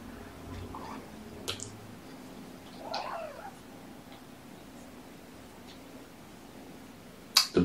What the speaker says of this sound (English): So much purrs.